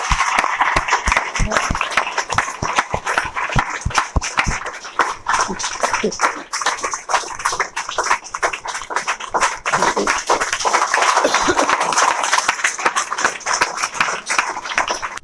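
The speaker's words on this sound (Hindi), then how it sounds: "ताली बजाकर स्वागत कीजिए" An audience at a school success-story event claps to welcome a student, giving a sustained, fairly loud wash of applause with a speaking voice mixed in.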